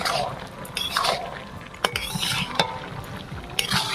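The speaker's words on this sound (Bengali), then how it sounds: "তার সাথে ধনে পাতা কুচি দিয়ে আবার ভালো করে একসঙ্গে কষিয়ে নিচ্ছি" A spoon scrapes and stirs bottle gourd and egg curry with chopped coriander in a pan, making soft repeated scraping and frying sizzles with occasional light clinks, close and fairly quiet.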